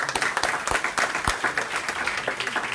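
Applause from an audience at a community workshop on culture, sport and leisure, a steady patter of many hands clapping at moderate distance with no voices over it.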